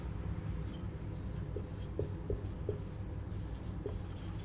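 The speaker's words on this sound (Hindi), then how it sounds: "इसका देखिए क्या लिख रहे हैं" A pen writes a statement by hand on paper in a classroom, a faint continuous scratching with a few small taps, close but low against a steady background hum.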